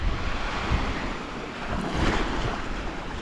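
Ocean waves wash over tide pools on the Izu Peninsula coast, a continuous broad rushing surf mixed with strong wind noise, loud and close.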